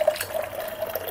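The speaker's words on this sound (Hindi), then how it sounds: "फिर उसको बंद करके ताकि बर्फ बाहर ना आए साथ में इस छोटे से होल से पानी निकालती हूँ" Water trickles and pours out through a small hole in a plastic bottle packed with ice, making a steady close liquid stream with a faint gurgle and no talking.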